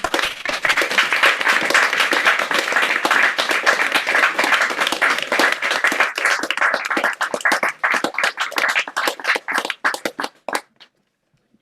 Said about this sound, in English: Let's give you another round of applause for wonderful poems